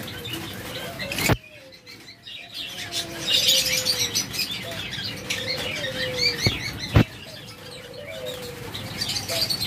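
Pet lovebirds, budgerigars and cockatiels chirp and tweet in a cage setting, mixed with soft cooing and a couple of sharp knocks, fairly close with no talk.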